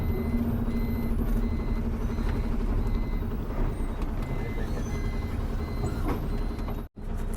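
A loaded lorry sits idling at a toll stop on a foggy ghat road. Its engine gives a steady, loud diesel rumble with faint mechanical clatter, then cuts off abruptly near the end.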